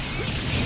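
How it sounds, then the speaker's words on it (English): Quick smash effect from dubbed Dragon Ball Super anime, a brief loud crashing burst with a whooshing edge, alone and close. "Even the smashes sound great dubbed."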